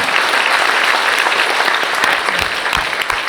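A hall audience applauds to thank soldiers at a political conference, loud sustained clapping from a large crowd throughout, with no talk over it.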